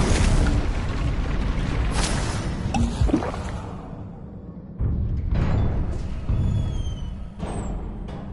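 Fire and blasting spells, Confringo and Incendio, go off in Hogwarts Legacy: several heavy booming bursts with whooshing tails, a loud cluster early on and two more blasts later, over a rumbling game soundtrack.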